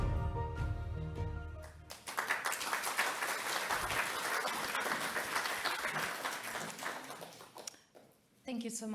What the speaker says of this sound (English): Thank you so much for your applause of this video.